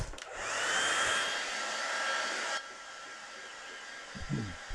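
A hair dryer blows on wet watercolour paint, a steady loud whoosh for about two and a half seconds before it drops to a lower hum, with a few faint knocks near the end.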